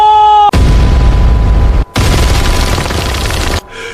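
An animated firing line lets off a loud gunfire volley, a dense roaring blast that holds, breaks off briefly, then comes back as a second sustained barrage. A short tonal cue plays before it, and the roar fades into a fainter tail.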